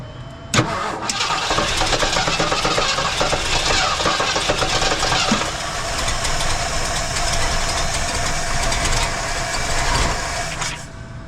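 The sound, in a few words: 1977 Ford LTD engine trying to start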